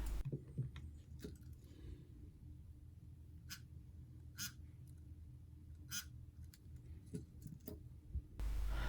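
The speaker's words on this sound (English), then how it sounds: "Keys from Skoda Octavia 2014." Car keys for a 2014 Skoda Octavia give a few short, faint metallic clinks and taps spread over a quiet, low-humming background, with no talking.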